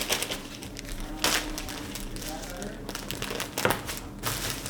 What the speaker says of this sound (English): Then you take the little sticky thing off.